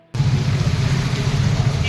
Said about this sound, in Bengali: বৃষ্টি পড়ছে ভালো লাগছে না।